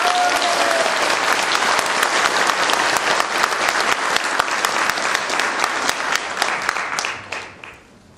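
Loud, sustained applause fills a hall at a Democratic United Party joint campaign rally in Busan, Ulsan and Gyeongnam for leadership elections, a dense crowd clapping steadily before fading out near the end.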